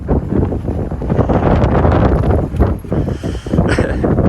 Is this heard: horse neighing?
no